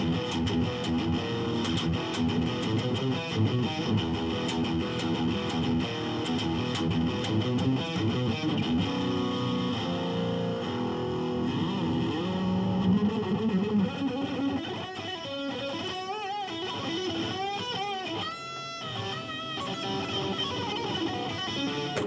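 An Ibanez S470 electric guitar played through its middle pickup with distortion, sustained gritty chords and riffs with picked notes and some squealing harmonics near the end, played alone and steadily loud.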